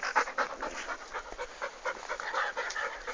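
A golden retriever pants rapidly and close by, a quick steady rhythm of breathy huffs continuing throughout with no other sounds over it.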